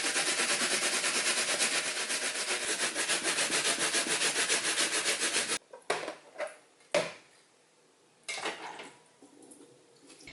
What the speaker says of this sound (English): I grate the nagaimo